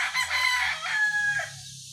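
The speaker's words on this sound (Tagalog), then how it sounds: "napagbitaw na natin yung ating mga alagang manok, yung dalawa, yung broodcock" A broodcock rooster crows once, close and clear, over low clucking from freshly released backyard chickens.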